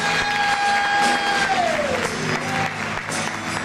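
A church congregation at a Sunday evening service applauds loudly and steadily, a dense wash of clapping filling the room throughout, with a sustained musical tone fading beneath it.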